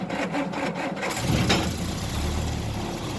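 A choked car engine, freshly fitted with a replacement transmission, cranks in rapid rhythmic bursts for about a second, then catches and settles into a steady, fairly quiet idle.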